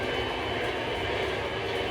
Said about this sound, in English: This is the Brady's train, Blue Comet.